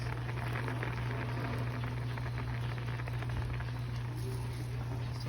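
Parrotfish paksiw simmers in vinegar with a steady, soft bubbling and a low continuous hum beneath, heard up close and unchanging for a few seconds.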